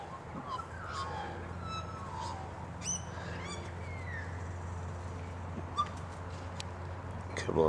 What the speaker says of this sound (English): A couple of laughing doves over there in someone's tree.